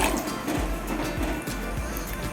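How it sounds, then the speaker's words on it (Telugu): Water poured into a pot for ragi porridge, a steady gurgling fill with faint splashes running throughout, heard up close. "రెండు చెంబుల నీళ్లు పోసాను"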